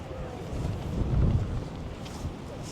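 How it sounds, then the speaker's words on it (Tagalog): Seaside wind at the end of Haeundae Beach near Mipo buffets the microphone in a steady low rumble, with faint surf-like noise and no clear speech. "Ang hangin pa."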